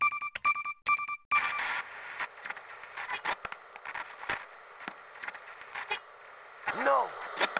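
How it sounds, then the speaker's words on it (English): A telephone ringing in the video game Resident Evil 3: Nemesis: a few short, evenly spaced double-tone bursts at the start, followed by game sounds and footsteps, with someone talking later. "ding ding, who's on the phone?"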